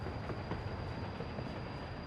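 A train rolls along in the city-building game Workers and Resources, a steady rumbling rail noise with faint rhythmic clatter and a thin high tone, continuous at moderate level without talk.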